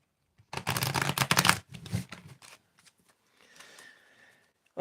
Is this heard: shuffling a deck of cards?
yes